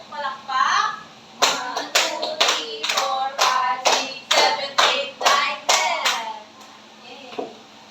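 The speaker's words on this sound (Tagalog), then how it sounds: "bigyan ninyo ang inyong sarili ng 10 palakpak" A class of children claps in unison about ten times in an even, counted rhythm of sharp, close claps, with young voices briefly heard before the clapping starts.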